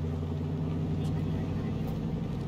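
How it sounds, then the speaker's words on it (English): A car engine rumbles steadily in a video game, a low continuous drone held at close range throughout. "a car isn't good camouflage making all that fucking noise"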